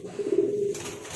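A bandangan pigeon gives a short, soft courtship coo, a single low hum that swells and fades at close range with faint background noise.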